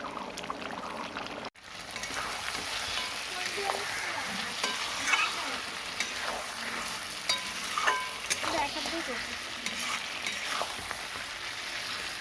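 Meat being stir-fried (kosha) in a pan, a continuous soft sizzle with scattered scraping and stirring clatters from a spatula, close and moderately quiet, no talking.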